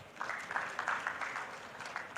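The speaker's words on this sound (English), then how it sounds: "Please round of applause for Abdul." Audience applause for a speaker at a panel event on power investment in Northern Nigeria: a thin, fairly quiet patter of clapping from a modest crowd, steady for about two seconds.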